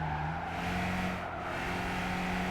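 A race car engine held at full throttle in the Gran Turismo 5 video game, a steady, loud, sustained drone with no pauses and no talk.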